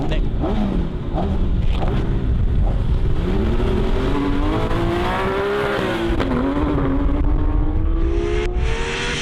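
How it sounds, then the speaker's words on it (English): Porsche 911T and GT3 drag racing side by side on a wet test track, engines rising steadily in pitch through the gears with a constant rushing roar and spray noise, loud and continuous. "2 Porsches. 911T versus the GT3. Okay, Mr. Starter, let's have some Porsche racing."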